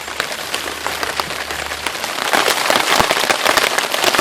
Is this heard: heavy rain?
yes